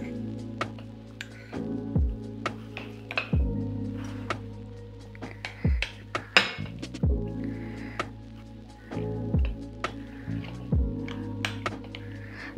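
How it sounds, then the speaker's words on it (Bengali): Ingredients being stirred in a bowl with a beaten egg added, a series of soft repeated taps and squishy clinks at a steady rhythm, close and fairly quiet. "দিয়ে সব মিক্স করছি, আর ফাইনালি দিচ্ছি একটা ফেটে রাখা ডিম"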